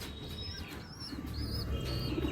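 Giribaz pigeons coo softly in a low, rumbling murmur over a steady background hum, with faint chirps and a brief rustle of wings mixed in.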